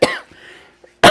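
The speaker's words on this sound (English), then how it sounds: "sorry, I have a cough." A woman coughs during an art supplies chat, a sharp cough at the start followed by a quiet breathy pause and another abrupt cough at the end, close and loud with no speech.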